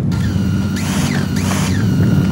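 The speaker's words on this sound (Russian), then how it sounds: "Заводим моторы." Small JJRC X3 HAX quadcopter motors spin up with a steady high whine, rising in two swells over a constant low hum, close and fairly loud with no talking.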